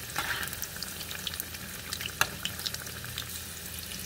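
Cauliflower bajji fritters deep-frying in hot oil give a steady close sizzle scattered with small crackling pops and bubbling, with no voices.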